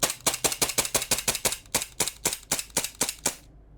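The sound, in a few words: Krownland 4.5mm airgun pistol firing with blowback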